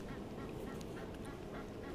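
Geese honk in a noisy, continuous clamor somewhat off in the distance near water at night, where someone is fishing, the overlapping calls forming a dense, steady wash with no clear gaps.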